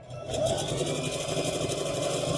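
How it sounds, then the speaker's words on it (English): A sewing machine stitches a quarter-inch seam along the edge of a fabric tissue holder, a steady close whirring drone that starts after a brief quiet moment and runs evenly to the end. "So you're gonna sew 1/4 the edge"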